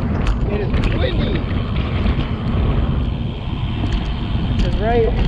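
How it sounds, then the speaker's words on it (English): Strong wind gusts outdoors by a harbor, roaring across the microphone in a continuous heavy rumble with faint water sounds mixed in, while a voice speaks briefly beneath the blustery noise. "It is windy."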